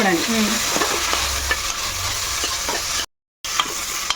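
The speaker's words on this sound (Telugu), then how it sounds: "అల్లం పేస్ట్ వేసుకుందాం ఓకే ఇప్పుడు కొంచెం ఇది బాగా ఏగాలి" Ginger paste frying in a pan while making paneer pulao, a steady broadband sizzle with scattered clicks of stirring throughout, briefly cut to silence near the end before resuming.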